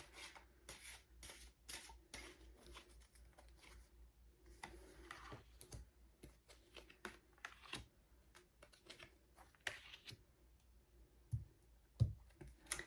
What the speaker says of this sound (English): We'll just shuffle a few times and see what comes out.